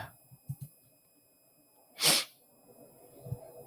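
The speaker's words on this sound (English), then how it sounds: "I feel another sneeze coming." A single loud, sharp human sneeze bursts out about midway, set against quiet room tone with a few soft breaths and low thumps before and after.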